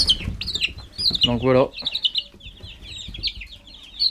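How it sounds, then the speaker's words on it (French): Hens, including fine breeds kept with a rooster in a backyard run with large recycled tubs, cluck and chirp close by in short repeated calls, while someone talks briefly over them. "des belles poules"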